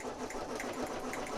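Embroidery sewing machine running steadily at close range, a continuous busy mechanical whir with fast regular stitching ticks throughout, no voices.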